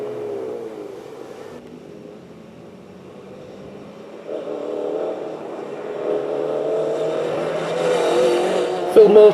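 A Datsun rally car drives a stage of the Lombard Rally, its engine note building and rising toward the end over a steady background, with commentary spoken throughout.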